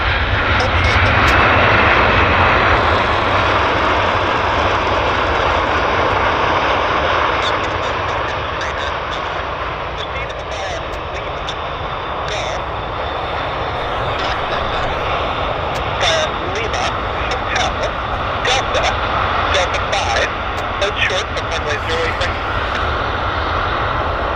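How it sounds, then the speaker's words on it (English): A Delta airliner on flight 205 from Calgary taxis at Vancouver airport, its engines giving a steady, loud broadband roar that eases slightly partway through, with a voice talking over it. "This is our flight 205 from Calgary, taxiing."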